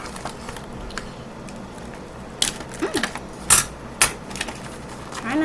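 Scissors snip through the packaging of an LOL OMG doll, giving a few sharp, close cuts and clicks scattered among quieter handling rustles.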